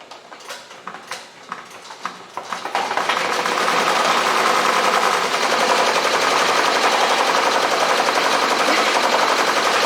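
A Ricoma MT1051 embroidery machine stitching a hat design, starting with a few sparse ticks and clacks before settling into a loud, steady rapid needle chatter that runs on alone.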